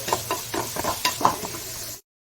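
Coconut and shallots frying and being stirred in a pan for a meal maker and potato kurma, with a steady close sizzle and scraping stirs for about two seconds before it cuts to silence.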